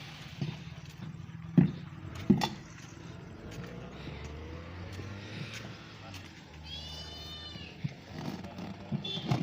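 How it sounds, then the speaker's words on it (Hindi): A cat meows a few times close by at a village tyre puncture repair shop, with people talking and scattered knocks and clatter in the background of a busy outdoor space. "प्यारी सी बिल्ली।"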